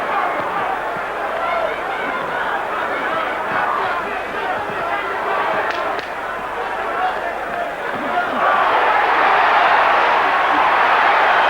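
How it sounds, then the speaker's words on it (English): Boxing arena crowd roaring and cheering a punch at a heavyweight fight between Evander Holyfield and Riddick Bowe, a dense steady wall of voices that swells louder near the end. "they really cheer that punch."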